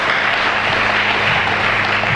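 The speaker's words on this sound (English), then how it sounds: "Let me give a round of applause" Steady, dense applause from an audience at a church celebration honoring a long marriage, a continuous wash of many hands clapping at once, loud and close, with no pauses.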